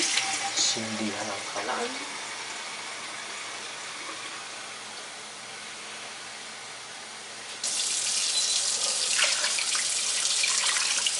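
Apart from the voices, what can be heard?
water pouring into a pot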